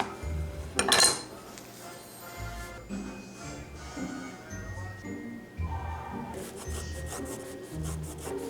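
A metal baking pan pulled out and handled in a home kitchen, with a sharp clattering clang near the start followed by close rubbing, scraping and light knocks of metal.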